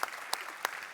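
A brief burst of conference audience applause for the event organizers at UIKonf, a steady clatter of many hands with a few sharper individual claps standing out.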